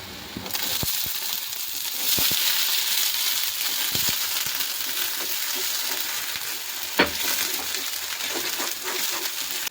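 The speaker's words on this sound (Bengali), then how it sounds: "এবার আমি বিনস দিয়ে দেবো।" Green beans added to hot oil with lightly fried onion in a pan, sizzling steadily and loudly throughout, with occasional clinks and scrapes of stirring.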